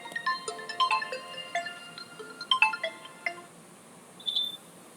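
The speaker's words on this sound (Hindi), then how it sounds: "एक कंपनी का फ़ोन आ रहा है" A mobile phone's incoming-call ringtone plays a bright, tinkling melody in repeating phrases, loud and close, with no speech over it.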